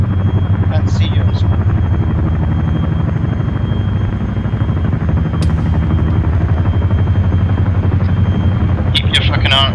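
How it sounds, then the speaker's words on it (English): A loud, steady helicopter rotor drone in the video game Arma 3, with heavy low thumping throughout, a few brief sharp clicks and faint voices near the end. "Let's get on the helicopter."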